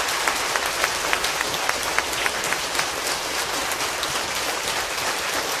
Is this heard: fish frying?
no